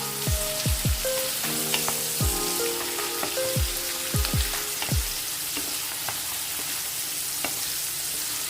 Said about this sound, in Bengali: তারপরে দিয়ে দিন কুচি করা পালক। পালকটাকেও একটু নেড়ে চেড়ে নিন।